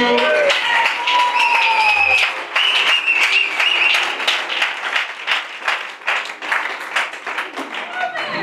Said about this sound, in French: On acclame encore Jésus